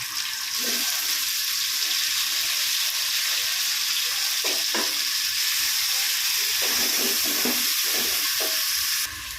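Tomatoes tipped into a hot pan of oil fry with a steady, loud sizzle that lasts throughout, with soft stirring scrapes and brief spatters rising over the hiss in a home kitchen.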